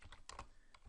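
Brief burst of typing on a computer keyboard, a few quick soft key clicks close by, quiet and without any voices.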